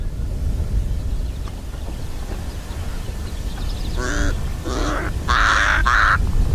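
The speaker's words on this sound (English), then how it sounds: "And of course the ever-present pied crows." Pied crows calling in southern African bush, several harsh, nasal caws arriving in a quick series near the end, loud and close over a low rumbling background.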